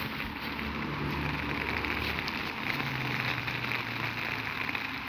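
Soft, steady rain falling with a gentle continuous patter and faint low rumbling beneath, no talking.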